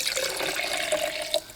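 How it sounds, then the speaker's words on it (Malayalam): A glass of water is poured into a pot of chicken kurma, making a short, steady splashing stream with small drips toward the end. "ഞാനിതിലേക്ക് 1 ഗ്ലാസ് വെള്ളം കൂടിയും ചേർക്കുന്നുണ്ട്"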